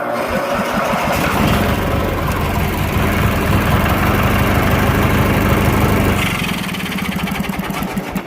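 An old 18 hp Craftsman mower engine starts and runs loud and close, its uneven chugging rising and falling as it surges, then dropping off near the end.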